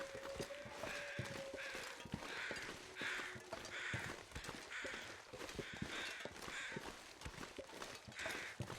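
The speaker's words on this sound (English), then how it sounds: "What are the crows circling there?" Crows caw repeatedly in the survival video game The Long Dark, a series of harsh calls spaced roughly half a second apart over a steady windy background, moderately distant with no talk.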